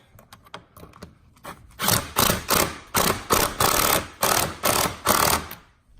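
A ratchet tightens 7 mm bolts beside the air filter of an intake system on a Fiat 500 Abarth. After a few light ticks, a steady run of loud, even clicking bursts follows, close and alone.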